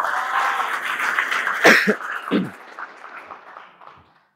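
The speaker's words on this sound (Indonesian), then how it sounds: "Beri aplaus buat Bapak Ibu semua" Brief clapping from an audience at a seminar, a scattered burst that swells and then tapers off into a few last claps and silence within a few seconds.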